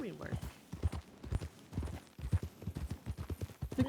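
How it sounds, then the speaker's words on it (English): Horse hooves clip-clop at a steady walking pace in Red Dead Redemption 2 roleplay, moderately near and faint, underneath people chatting. "They're cute little horses."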